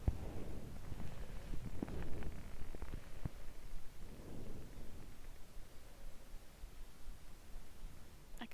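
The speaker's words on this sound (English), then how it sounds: "The rain has not let up all day long." Heavy rain pours steadily on a hiking trail of the Pacific Crest Trail, a dense continuous hiss with soft low rumbles, close and unbroken throughout with no voices.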